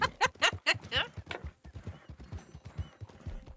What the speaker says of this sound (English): I don't think my horse wants to run anymore.